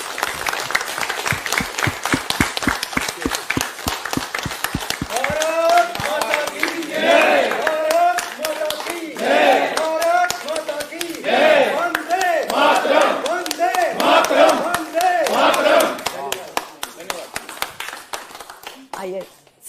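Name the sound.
studio audience applause welcoming The Kashmir Files cast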